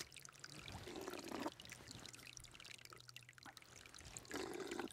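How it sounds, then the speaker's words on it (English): Clean spring water pouring out of a steep valley sidewall at the head of a stream in the St. Andrew Bay watershed, a faint continuous trickling and splashing that swells slightly in places. "Clean, potable water coming right out of a very steep valley sidewall."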